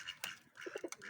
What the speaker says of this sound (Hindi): न्यू कबूतर दिखाता हूँ आपको, जो सा हमने पकड़ा है